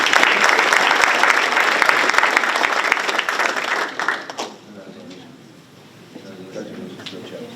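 A board of education meeting audience gives a loud round of applause for honored students, dense clapping for about four seconds before fading to quiet room noise.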